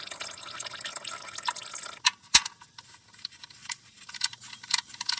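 Motor oil drains from the drain hole of a 2010 third-generation Toyota Prius during an oil change, falling as scattered, irregular drips with small ticking splashes over a soft, steady trickle.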